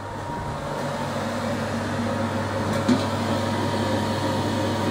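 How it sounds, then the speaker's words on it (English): A homebrew electric kettle runs at full power, giving a steady low mains-like hum and even electrical drone throughout, with one brief click near the middle. "So now we've got full power on the kettle."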